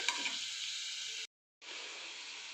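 Carrots with turmeric cook in a pan with a soft, steady sizzle. It cuts out briefly, as if the lid is lifted or the pan is moved, then resumes at the same level.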